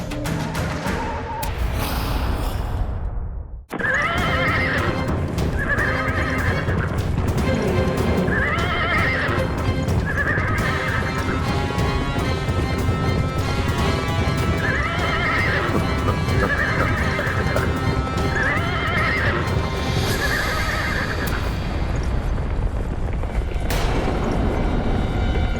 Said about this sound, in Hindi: रथ की गड़गड़ाहट रुक गई